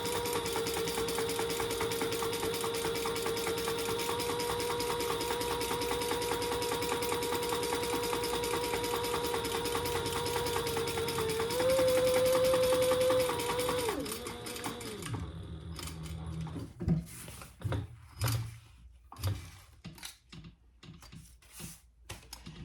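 A sewing machine runs in a long continuous whir while stitching rows on a fabric bag, then stops and gives way to a few quieter clicks and handling sounds.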